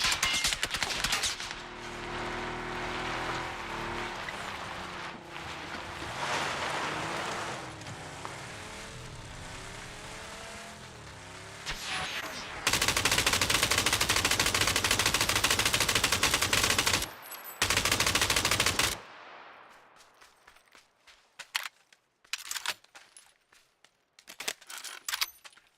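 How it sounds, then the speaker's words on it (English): Gunfire in PUBG sounds as dense rattling bursts of automatic fire, with a long sustained stretch of shots followed by scattered, sharper single cracks near the end. "Somebody's still shooting at me."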